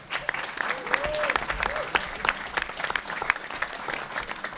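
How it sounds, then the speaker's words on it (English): Audience applause for a finalist at Plymouth State University's Panther Pitch competition: steady, dense clapping from a crowd that holds for several seconds, with a brief voice or cheer rising through it early on. "please join me in a round of applause for our next finalist"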